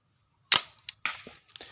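A flat-band slingshot firing an 8 mm ball gives one sharp snap on release, followed by a few lighter clicks and taps in an otherwise quiet setting.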